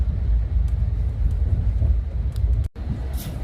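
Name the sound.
train travelling over the Tonigal bridge, Shiradi Ghat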